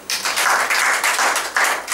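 A church congregation bursts into hand clapping, a dense run of bright claps that swells in uneven waves and holds steady for about two seconds, with no talking over it.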